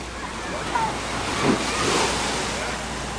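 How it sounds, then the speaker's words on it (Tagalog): Strong ocean waves roll onto a shore in broadband surf noise with wind buffeting, one surge swelling near the middle, while people talk and call out nearby. "Hahabol-habol niya yung wave. Lakas ang wave nila, no?"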